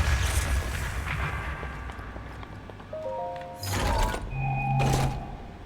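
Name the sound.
bomb explosions in video game Breath of the Wild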